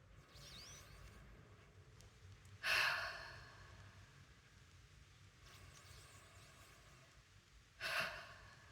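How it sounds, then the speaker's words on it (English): Deep, slow breathing with inhales through the nose and exhales through the mouth, heard as two loud breathy bursts several seconds apart against a quiet background. "Inhale through the nose, exhale through the mouth."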